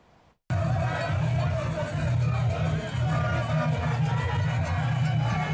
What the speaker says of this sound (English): what you see to my right hand side is a mammoth crowd drawn from the Ketu South municipality protesting